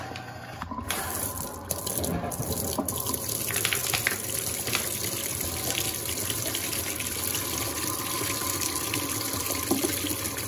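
Water gushes steadily from an Electrolux Turbo Aqua Jet LTA15 direct-drive washing machine draining during a towel wash, a constant close, moderately loud rush with no voices.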